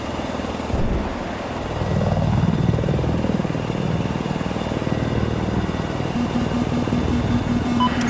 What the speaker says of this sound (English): flying the attack helicopter on the Siege of Shanghai